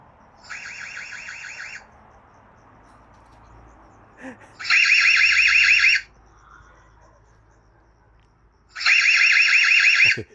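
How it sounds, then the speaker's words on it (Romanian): A home security camera alarm that works without Wi-Fi or mains power sounds three loud, buzzing electronic siren bursts, each about a second or more long, separated by quiet gaps. "Ce se întâmplă dacă îi apăs alarma?"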